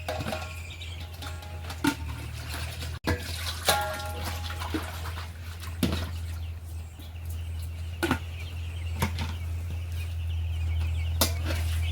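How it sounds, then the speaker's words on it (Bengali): Water poured out of plastic containers as they are rinsed at a poultry farm, steady splashing and trickling with scattered sharp knocks and clatters, a low continuous hum underneath, no speech. "ভাই আর বাবা এখন এই যে জলের কন্টেনার থেকে জলগুলো ফেলে আর একবার কন্টেনারগুলো একটু ধুয়ে দিচ্ছে"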